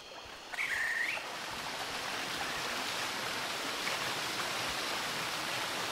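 Steady rushing water from a waterfall inside a Thief fan mission game level, a broad continuous roar with a brief whistle-like tone near the start.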